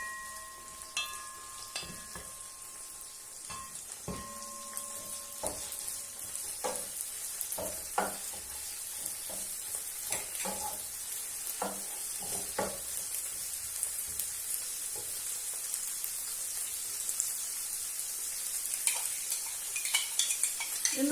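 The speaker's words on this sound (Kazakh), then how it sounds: "Тауығымыз қуырылып жатыр." Chicken pieces fry in a pan for sweet-and-sour chicken, making a continuous close sizzle with frequent clicks and scrapes of a utensil stirring against the pan throughout.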